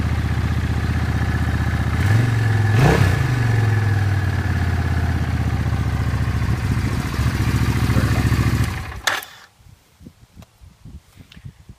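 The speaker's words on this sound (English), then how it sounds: "Here's your view when you're riding the bike." A Suzuki Intruder motorcycle engine with new spark plugs runs steadily and loudly while being ridden, with a brief rise in revs midway before cutting off, followed by faint knocks and rustles.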